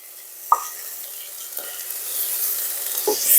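Water goes into stir-fried rice in a hot pot for zucchini porridge, and a soft, steady sizzle rises, broken by a few small splashes and plops, close and with no talk.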